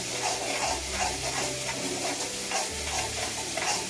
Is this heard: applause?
no